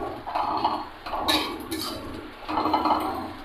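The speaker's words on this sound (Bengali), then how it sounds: "শুধু মাংসটা সেদ্ধ করা আছে তো, তাই এমনি নরম, ভালো মতো নেড়ে ভেজে নিলে মাংসটা আরও ভালো হবে।" Boiled beef being stirred and fried in a pan for a Bengali jhuri bhaji, with a utensil clinking and scraping against the metal in steady bursts, fairly close and with no talking.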